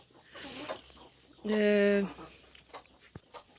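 A hen clucks in a backyard poultry flock in Ukraine, giving one short loud burst of calls in the middle while nearby speech runs throughout.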